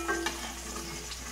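Tilapia fries in a pan and gets flipped: a steady, close sizzle with a brief clatter at the start.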